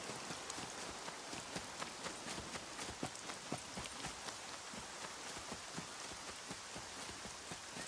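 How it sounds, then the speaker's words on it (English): Heavy rain pouring in the survival video game SCUM, a dense steady hiss with scattered louder drops and faint rhythmic thuds like steps, no talk. "Raining. It's pouring."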